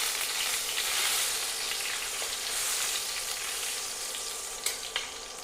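Dried red chilies crackle and sizzle steadily in hot oil in a pan for a potato mezhukkupuratti, a dense bright hiss with a few faint clicks of stirring near the end.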